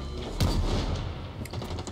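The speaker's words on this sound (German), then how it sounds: "die Explosionsgeschosse bringen gar nichts" Explosive-round gunfire in the video game Blacklight Retribution, a dense muffled barrage of thumping booms that rolls on steadily at moderate loudness with no clear gaps between shots.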